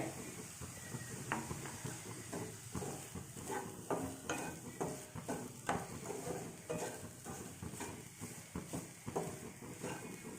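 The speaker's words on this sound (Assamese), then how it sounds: "এতিয়া গুড়খিনি পূৰা পাক নুঠালৈকে মই" Jaggery stir-fried in a pan while making coconut and jaggery laddus, giving a steady low sizzle with repeated scraping and clinking of the spoon against the metal, close and moderately loud, with no talking.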